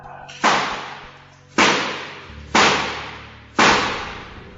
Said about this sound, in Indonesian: Dia seketika melepaskan pelatuk pistol tepat ke arah bagian dada Carolina